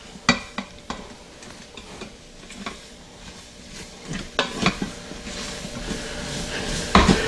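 Chicken and sausage gumbo cooking in a pressure cooker, with soft sizzling, stirring scrapes and a few sharp clinks of a utensil against the pot, close and fairly quiet.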